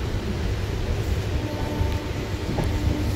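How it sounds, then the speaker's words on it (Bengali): A Kolkata circular rail local train pulls away from Prinsep Ghat station, giving a steady low rumble and hum heard from aboard, with no talk. "আমাদের ট্রেন প্রিন্সেপঘাট স্টেশন থেকে ছেড়ে দিল"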